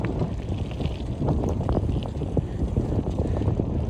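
Strong wind buffeting the microphone while biking outdoors in cold weather in Saskatoon, Saskatchewan, a continuous loud low rumble with gusty surges and no speech.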